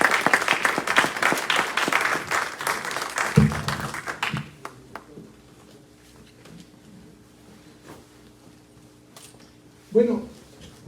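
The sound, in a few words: audience applause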